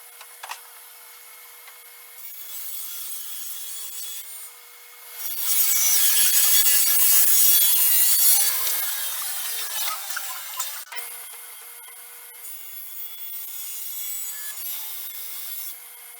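Wooden face frame rails being cut for a built-in wall oven cabinet, a harsh rasping saw cut that swells and fades over several seconds, bracketed by quieter scraping and handling noises, close and without speech.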